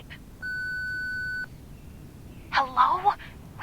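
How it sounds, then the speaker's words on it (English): In the game Reverse: 1999, an answering machine gives a single steady electronic beep lasting about a second, loud and clean, followed shortly by a voice starting to speak. "Please leave a message after the beep."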